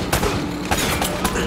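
Rapid bursts of video game gunfire, loud and continuous, with several sharp shots standing out over a dense battle din.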